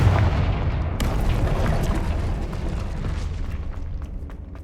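A Confringo fire spell bursts in Hogwarts Legacy with a loud booming explosion, followed by a deep rumbling roar that slowly fades out.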